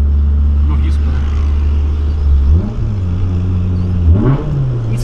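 Honda Civic Si engine revs up close by with a steady drone, dipping and then climbing in pitch twice as it accelerates, while people talk over it.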